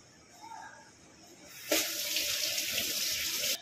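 Water pours from a kitchen tap, splashing steadily for a couple of seconds after a sudden start, as it is added to a fish mixture for steamed rohu.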